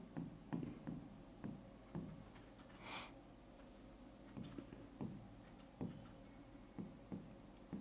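Pen or pencil writing out a grammar rule in notes during a Hindi-language lesson on determiners, giving quiet, close scratching strokes in short repeated bursts with faint breathing and room hiss.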